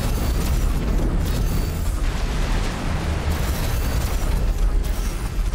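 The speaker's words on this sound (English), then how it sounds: "Did that explosion mess up their own drones?" A station pier blows apart in the space game X4 Foundations, a loud sustained rumbling explosion with dense crackling bursts and booms rolling on for several seconds, close and alone without talk.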